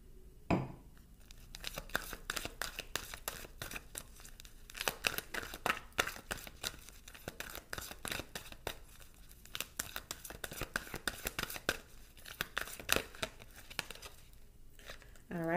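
Tarot cards are handled and shuffled close up, giving repeated crisp riffling and sliding card sounds in irregular bursts, with a voice talking over them.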